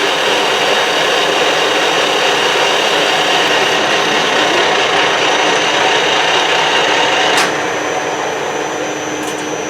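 A loud, continuous power tool whine drones for nearly ten seconds without break, then eases slightly near the end.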